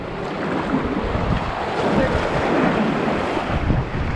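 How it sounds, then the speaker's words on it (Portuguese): Strong, rough sea waves churn and crash at a steady roar along the shore, heavy wind buffeting the microphone throughout, with no one talking. "Tá muito forte e agitada as ondas aqui."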